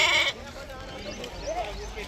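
Young goats or lambs bought at the Gauribidanur market bleat as they are loaded onto a vehicle: a short, wavering cry rises over steady outdoor bustle, with people talking nearby.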